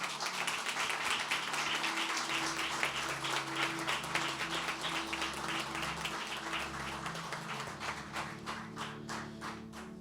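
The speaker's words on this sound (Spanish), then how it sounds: "le demos un aplauso a Dios" A congregation at a Sunday church service claps together in sustained applause, dense and fairly distant, with a low hum of music or organ underneath and no clear speech.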